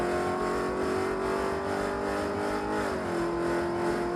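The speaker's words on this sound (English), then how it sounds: "the car was pulling timing intensely in third gear during this race against an AMG GTR" A Chevrolet Corvette C7 Z06 accelerates hard in third gear during a race against a Mercedes AMG GT R, loud sustained engine tone rising in pitch, then dipping briefly as if shifting, heard close and alone.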